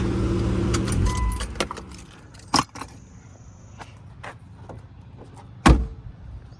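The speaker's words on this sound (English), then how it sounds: "So I've got both keys for the ignition and the trailer." Car keys for a 1999 Plymouth Prowler's ignition and trailer jangle, with a few sharp metallic clinks and rattles standing out against a low outdoor rumble, and no voices.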